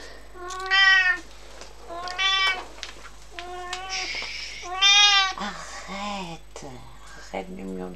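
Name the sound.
cat meowing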